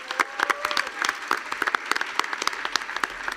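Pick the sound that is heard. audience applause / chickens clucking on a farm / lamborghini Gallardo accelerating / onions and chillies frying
audience applause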